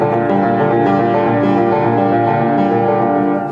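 Piano playing a variation on a theme, with full sustained chords ringing in a dense, continuous, fairly loud texture and no pauses.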